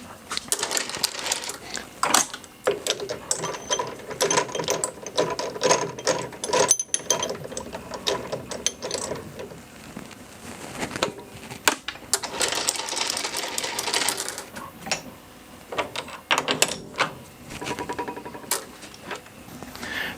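Rapid clattering, ratcheting metal cuts ring out as a Mosin Nagant 91/30 bolt is machined for bushing, a busy near-continuous mechanical chatter with bursts and short pauses, close and fairly quiet, with no talk.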